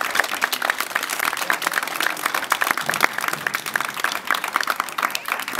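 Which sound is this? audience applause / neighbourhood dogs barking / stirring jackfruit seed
audience applause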